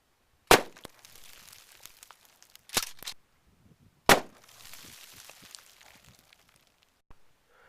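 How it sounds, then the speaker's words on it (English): A shotgun fires shot shells at a target, three sharp loud reports a couple of seconds apart, each followed by a short clatter and quiet handling noise. "for the 10-yard shots, I'm going to shoot right in the middle."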